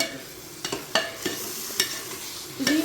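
Spices including garam masala get stirred into Tamil Nadu style tomato rice in a pan, a low sizzle with a handful of spoon scrapes and knocks, close and unhurried.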